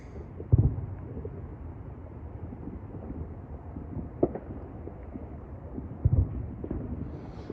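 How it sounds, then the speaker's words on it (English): Distant New Year's Eve fireworks thud as a few muffled booms at uneven intervals over a low rumbling, windy background outdoors at night. "I hope most of these are fireworks."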